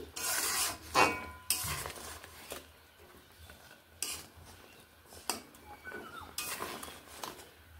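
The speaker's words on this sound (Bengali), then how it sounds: "এবার এগুলোকে আমি এর সঙ্গে মাছগুলোকে মিশিয়ে নিচ্ছি।" Fried koi fish is stirred into gravy in a pan, with a spoon scraping and clinking against the metal in several bursts and quieter shuffling in between, close up and with no talking.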